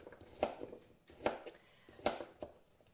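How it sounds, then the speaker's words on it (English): A knife slicing through a cucumber on a cutting board, four evenly spaced crisp chops with light scraping between them, close but quiet. "So it only takes a moment to slice that."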